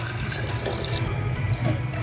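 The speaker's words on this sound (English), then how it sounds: "We're gonna get ourselves a nice clean pour of milk here." Milk streams into a jar from a measuring cup as a steady liquid pour, close and continuous for about two seconds, with a soft splashing burble and no voices.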